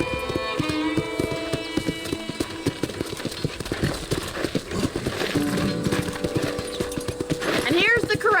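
Horses clip-clop steadily at a ranch corral in the Red Dead Redemption video game, hoofbeats running throughout beneath a bed of game music, with a brief whinny-like sweep near the end.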